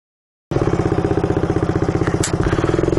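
Harley-Davidson motorcycle engine starting abruptly and then running with a loud, steady, pulsing idle, close by and alone, with no voices.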